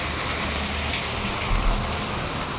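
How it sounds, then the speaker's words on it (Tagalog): Heavy rain pours down steadily at a house in Tondo, a dense, constant hiss of water on surfaces with one brief low rumble partway through and no talk. "Malakas ulan. Lakas ulan, guys."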